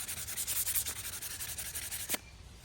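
Sandpaper is rubbed back and forth on a wooden spatula in quick rhythmic strokes, close and fairly quiet with no talk, before stopping abruptly near the end.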